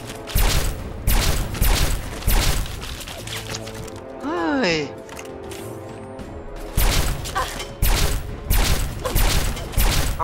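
Enemy gunfire in Fallout 3 comes in repeated loud, rapid bursts, broken by a brief lull that carries a short sweeping sound effect, with a voice talking throughout.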